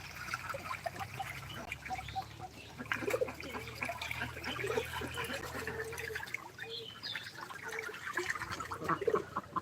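Water runs from a pipe into a duck house on a duck farm, splashing steadily for the whole stretch, with quacking ducks and faint farmyard noise mixed in.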